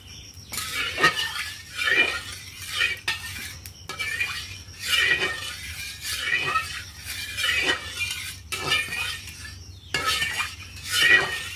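A metal spatula scrapes and taps around a hot wok, spreading mustard oil in repeated strokes and clinks, close and moderately loud, with a little background noise between strokes.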